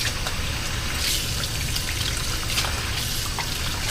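Cold tap water running over raw chicken breasts in a kitchen sink; a steady, close rushing splash with small irregular drips and spatters, no talking.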